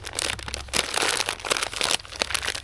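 Chips being added to a camp meal on South Manitou Island, giving crinkly, crunchy rustling that keeps going without a break, close and moderately loud, with no talking.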